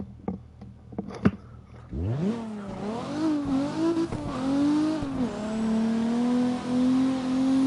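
A few light clicks, then a car engine in a drifting video game revs up sharply and holds a loud, steady whine, pitch wobbling as it shifts and accelerates.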